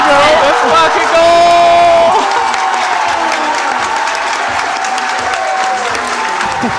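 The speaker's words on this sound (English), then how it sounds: "the crowd is going crazy" Crowd at a bouldering championship final roaring with cheers, whoops and applause, loud and dense at first, then settling into a sustained excited hubbub.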